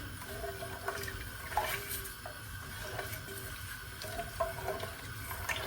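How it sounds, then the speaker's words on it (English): Hot water poured from a vessel into a smooth maize-meal porridge paste in a Zimbabwean home kitchen, a steady splashing pour with a few clinks of the pot, fairly quiet and without talk. "So then I add hot water and bring it up to a boil."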